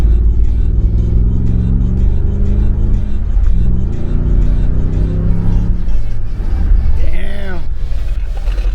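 A Land Rover LR4 engine with its resonator cut off revs loudly and rises and falls in pitch with a deep, rumbling exhaust tone, while a person speaks over it.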